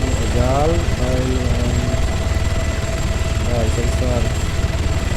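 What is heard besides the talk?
helicopter in video game Arma 3 Altis Life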